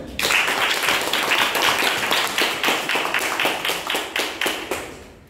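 Students at a school youth science seminar applaud class 8L, a lively burst of many hands clapping in a loosely rhythmic patter that slowly thins and fades out.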